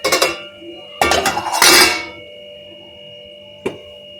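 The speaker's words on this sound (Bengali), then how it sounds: "দিয়ে এবার প্লেটটা একটা ঢাকা দিয়ে রেখে দিই" In a home kitchen, a lid clatters down over a plate, giving two bright metallic clanks with ringing, then a lighter clink a moment later, all close against a steady low hum.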